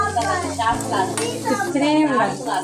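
Bitter gourd frying in a pan and being stirred, with a utensil clattering against the metal under a steady voice that runs through the whole short stretch.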